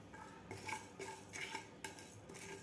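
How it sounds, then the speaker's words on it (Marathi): Cumin and coriander seeds dry-roasting in a pan over a medium flame, with a quiet, steady clatter and scrape as the seeds are stirred and a spoon taps the pan in repeated light strokes. "मिडियम गॅसवर आपल्याला असे खरपूस सुगंध येईपर्यंत धने आणि जिरे भाजून घ्यायचे आहेत."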